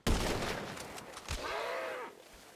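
A couple of sharp gunshots ring out in a role-play video game, a loud crack at the start and another midway, followed by a fading tonal whine and scattered background game noise.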